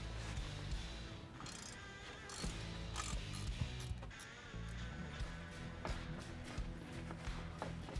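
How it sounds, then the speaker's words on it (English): Ratchet wrench turning out the 11 mm yoke retainer bolts on a Chevy Silverado drive shaft, giving dense repeated metallic clicking and clunks close up over a steady mechanical background. "Now we remove the 4 11-millimeter bolts that hold the yoke retainers on."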